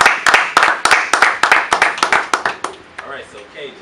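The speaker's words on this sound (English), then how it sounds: "Clap it up." A small group clapping in quick irregular bursts during a rap radio interview, the claps fairly close and loud, fading out toward the end as a voice speaks softly underneath.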